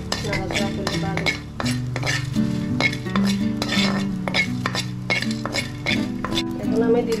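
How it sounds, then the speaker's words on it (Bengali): A spoon clinks and scrapes against a pan in a rapid, steady rhythm while cinnamon pieces and torn bay leaf are stirred in hot oil, with a soft sizzle underneath and a low voice in the background. "ভালো করে নাড়াচাড়া করে বাড়ি।"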